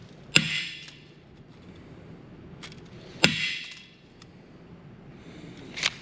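A steel U-bolt for a Chevy Silverado/GMC Sierra 1500 pickup takes three sharp metallic strikes a few seconds apart, each ringing briefly. The hits are close and clear in an otherwise quiet shop.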